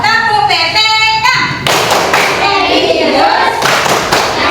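A classroom of students does a rhythmic Tepuk PPK clapping routine, loud, close patterned claps and thumps mixed with children's voices and a teacher speaking.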